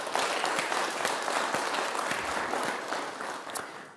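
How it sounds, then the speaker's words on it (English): An audience at an AI readiness panel event gives a dense, steady round of applause that holds for several seconds and tapers slightly at the end, heard alone. "Please let's hear a round of applause for our panel."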